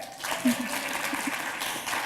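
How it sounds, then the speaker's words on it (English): An audience applauds steadily, a broad crackling wash of many hands clapping at moderate distance, with a faint voice or two briefly poking through the noise. "It's always good when you have to prompt applause like that."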